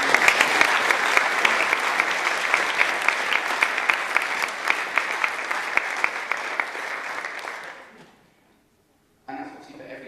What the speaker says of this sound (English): can we have another round of applause for me?